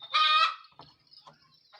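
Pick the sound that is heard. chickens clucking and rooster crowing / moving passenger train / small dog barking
chickens clucking and rooster crowing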